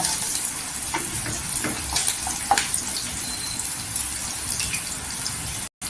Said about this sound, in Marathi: इथे लसूण गोल्डन झालेली आहे मिरची पण छान भाजलेली आहे